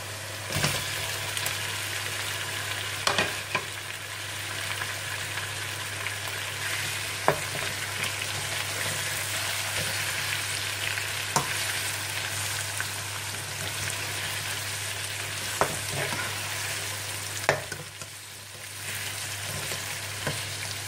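Chicken frying in a pan for white chicken karahi makes a continuous hissing sizzle at moderate loudness, with occasional clicks and stirring scrapes scattered through it.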